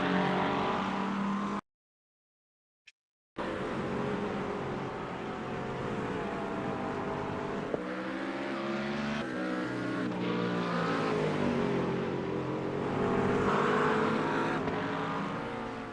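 Race cars in a two-hour endurance race at Spa, with engines roaring loudly and shifting pitch as the cars pass. A brief drop to near silence interrupts the steady engine noise early on.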